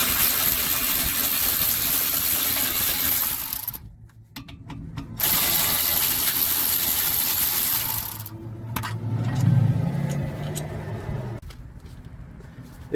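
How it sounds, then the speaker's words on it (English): A ratchet loosens the 12mm caliper bolts on the rear brakes of an Acura Integra: steady, close clicking that comes in long runs, broken by short pauses. "now I'm going to crack these two bolts loose here that hold the caliper on"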